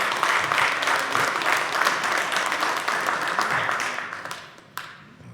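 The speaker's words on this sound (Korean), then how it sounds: "우리 박수로 환영하겠습니다." A church congregation claps in welcome during a Sunday service, a broad, sustained wash of many hands that thins toward the end, with one sharp clap standing out near the close.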